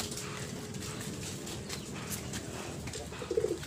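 A pigeon coos softly and close in a quiet space, low murmuring calls over faint background noise, with a brief louder flutter near the end.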